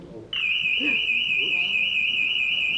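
A loud, steady high-pitched electronic alarm tone starts abruptly and keeps sounding, with faint voices and rustling underneath.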